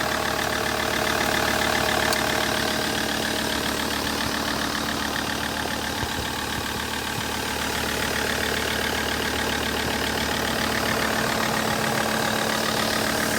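A 2007 SsangYong Rexton II 4WD with a 2700cc engine idling, a steady, even mechanical drone heard from inside the car, continuous and moderately loud with no talk.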